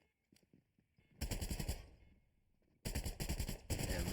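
Rapid automatic gunfire in the video game Fortnite, two dense bursts of fast repeated shots separated by a brief lull, with lighter scattered shots at the start.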